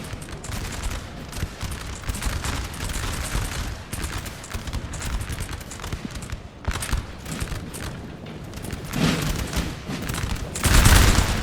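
Massed musket volleys from Austrian troops in a Napoleon Total War battle crackle continuously, dense overlapping shots rolling loud and near with distant booms underneath.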